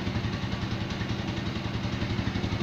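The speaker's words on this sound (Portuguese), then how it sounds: "a gente apanha sempre na lenta com o motor frio" A Shineray Explorer motorcycle engine idles cold on poor-quality fuel, a steady, slightly uneven mid-pitched putter that stays loud and close throughout with no talk.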